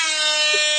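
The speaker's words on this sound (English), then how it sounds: "heard the air horn. Perfect timing." An air horn sound effect played from a phone app gives one loud, brassy, sustained blast that lasts under a second and sounds close to the microphone.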